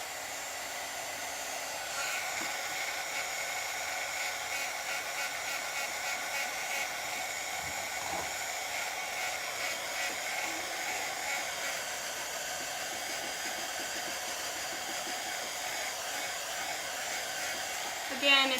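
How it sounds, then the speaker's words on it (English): Hair dryer running steadily to dry a hat before a heat transfer is applied, a constant close whooshing hum with a faint whine that holds throughout. "So I'm drying this because I'm putting the transfer down, and some of the transfer is going to hit this hat."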